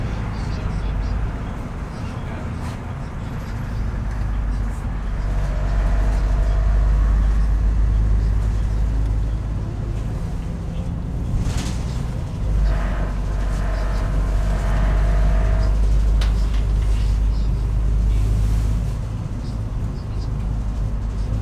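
Red double-decker tour bus driving through St Petersburg streets, its low engine rumble and traffic noise steady throughout, with a surge of heavier road noise midway and faint background sounds.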